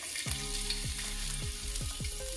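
Chopped ginger fries in hot oil with a steady close sizzle, broken by a few short stirring scrapes.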